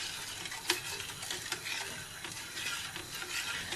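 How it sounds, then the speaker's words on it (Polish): Quiet scraping and ticking of a spoon stirring semolina in a pot, with soft irregular clinks against the rim and a faint bubbling underneath. "gotuję tak przez 10 minut, bardzo często mieszając"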